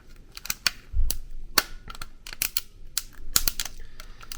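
Plastic clips of a Panasonic TV remote control case snap and crack as the case is peeled apart, giving a quick irregular series of sharp clicks close up.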